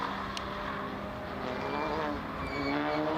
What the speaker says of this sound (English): And that car driving really slowly in today's race.